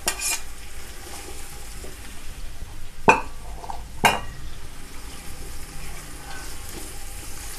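Chopped cabbage florets, peas and carrots are stirred and fried in a pot for vegetable pulao, giving a soft continuous sizzle broken by two sharp clanks of a spoon against the pan.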